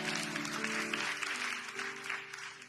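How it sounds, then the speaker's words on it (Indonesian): A congregation claps together during an evening prayer service in church, a continuous, lively applause sounding over sustained musical tones. "Yang percaya tepuk tangan buat Allah kita."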